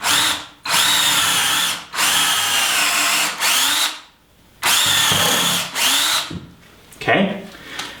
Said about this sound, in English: now I'm just going to take my drill and put a hole